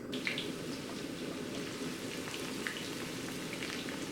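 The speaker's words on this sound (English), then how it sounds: "let the eggplant sizzle away" Eggplant frying in hot oil in a non-stick pan, a steady dense crackling sizzle that holds at one level throughout, with a few brighter pops and spits near the start and toward the end.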